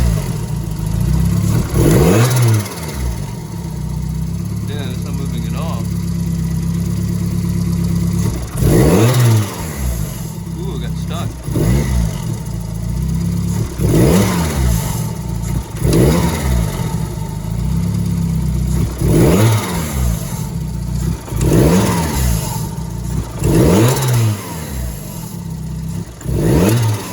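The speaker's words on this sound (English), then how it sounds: "It's all started up after I changed over the plugs." A car engine with freshly changed spark plugs idles and is revved repeatedly, each rise in pitch followed by a drop back to a steady idle, loud and close.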